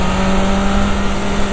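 A GT650 or S1000RR motorcycle engine drones loud and close at night, a steady buzzing tone holding through the stretch with rushing wind noise around it.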